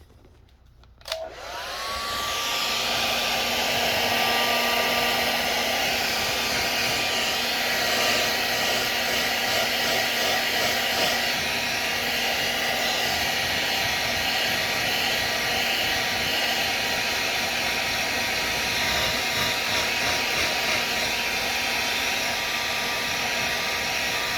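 A heat tool switches on with a click and then blows air in a steady, loud, unbroken roar with a faint high whine, running alone for the rest of the stretch.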